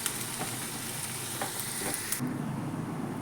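Green beans and minced pork sizzle and fry in a pan with a steady, close hiss broken by a few stirring clatters, then the sizzle drops to a softer bubbling.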